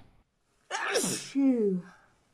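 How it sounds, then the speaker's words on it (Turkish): A single recorded human sneeze: a sharp breathy burst followed by a voiced, falling 'choo' tail, close and clear, alone after brief silence. "bizim hapşu şeklinde ifade ettiğimiz hapşurma eylemini İngilizler etçi şeklinde ifade ediyorlar"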